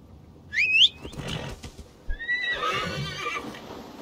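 Horse in the video game Assassin's Creed Valhalla letting out a sharp whinny, followed by a second softer neigh and hoof clops, close and clear with little else around.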